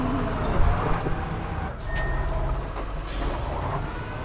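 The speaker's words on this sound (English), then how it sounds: "I like the fact that you can hear the uncut reverse gears." A heavy truck reversing in the off-road driving game Spintires, its straight-cut reverse gears giving a continuous mechanical whine over a low engine drone, with a brief hiss of air partway through and no talk.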